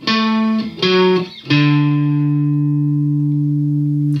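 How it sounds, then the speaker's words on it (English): Three sustained electric guitar notes on a single string, the first two short and the last ringing out and slowly decaying, with no talking. "I'm playing all of those notes on the same string."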